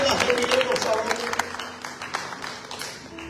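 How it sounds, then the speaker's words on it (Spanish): Applause rises from a church congregation, a dense patter of clapping that is strongest at first and then thins, with voices mixed in underneath. "¿Alguien puede darle el aplauso al Dios Todopoderoso?"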